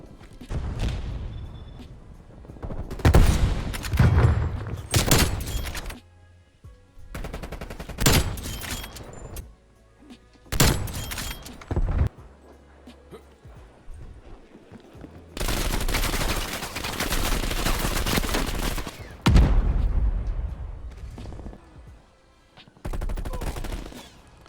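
Sniper rifle shots from Call of Duty Cold War gameplay ring out as a string of loud, sharp blasts, some in quick clusters and others spaced apart, with game noise in between.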